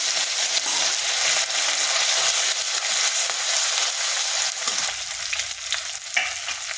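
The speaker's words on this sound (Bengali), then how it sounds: "ওই তেলের মধ্যে ফোড়ন দিয়ে দিচ্ছি গোটা জিরা আর একটা শুকনো লঙ্কা।" Whole cumin seeds and a dried red chili crackle and sizzle in hot oil, a steady close frying hiss with small pops and the scrape of stirring.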